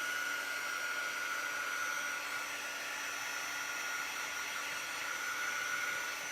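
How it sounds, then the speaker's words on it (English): A hair dryer blows steadily over chalk paste on a craft project, a continuous close airy whir that holds level throughout with no voices. "I'm just drying my chalk so I don't smear it"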